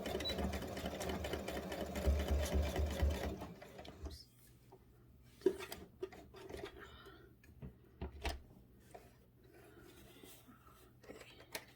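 A sewing machine runs in a fast burst of stitching through fabric for a machine cover, then stops, leaving quiet handling clicks and shuffles of the cloth.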